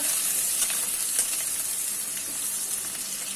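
A medium onion sizzles in hot oil in a pan while bhindi is prepared, a steady close frying hiss with faint stirring, no voices over it.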